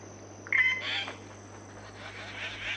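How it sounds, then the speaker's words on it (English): A Malaysian tree pie calls in forest: a short burst of harsh, raucous notes near the start, moderately loud, then fading into a steady background of forest hum and insects. "The Malaysian tree pie, most raucously conspicuous of the forest birds."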